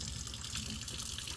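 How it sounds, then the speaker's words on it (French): Water running steadily from a tap, a continuous close splashing hiss with no talk. "voilà, j'ai de l'eau au robinet."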